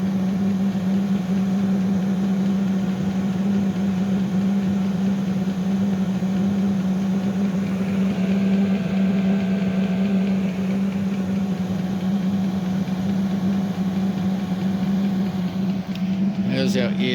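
A 5-8 kW diesel air heater, fitted with a muffler, runs loudly and steadily the whole time as a constant low droning hum with a roaring blower, and a few brief clicks near the end.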